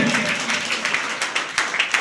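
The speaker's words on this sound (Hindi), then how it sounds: "जोरदार ताली बजते रहना चाहिए।" A crowd claps steadily at a 12th-grade pass-out student ceremony for Sunrise Classes in Bairiya, the applause bright and sustained with a few sharper claps standing out near the end.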